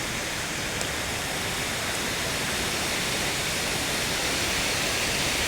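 Rainforest creek water at Killarney, Queensland, rushes in a continuous broadband hiss, loud and near, steady throughout with no voices.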